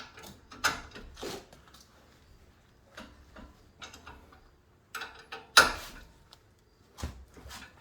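A bolt on a 2017+ Honda Pilot brake is hand-tightened with a wrench or breaker bar, giving scattered close metallic clicks and ticks in short separate bursts with quiet gaps between them.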